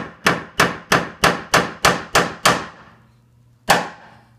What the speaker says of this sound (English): Put a punch right where you decided you were gonna hit it and make a nice mark.